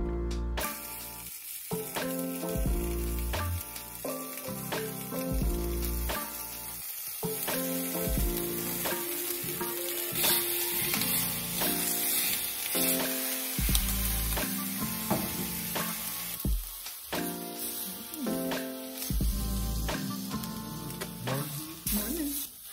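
Collar bacon frying in a pan in a home kitchen in Kenya, a steady loud sizzle and crackle running throughout, with clinks and stirring noises layered over it.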